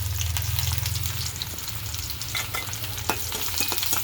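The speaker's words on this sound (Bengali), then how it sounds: "পেঁয়াজ দিচ্ছি কড়াইতে শাক ভাজির জন্য" Onions frying in hot oil in a wok for a red amaranth stir-fry, a dense close sizzle with a low steady hum underneath and a few stirring scrapes.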